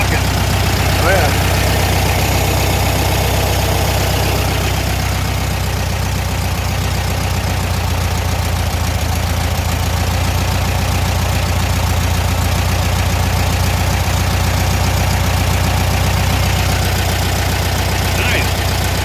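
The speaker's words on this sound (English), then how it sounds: "Oh, you can hear that carb sucking." An air-cooled Volkswagen engine idles steadily up close, a constant low rumble with carburetor intake hiss, and voices talk faintly over it.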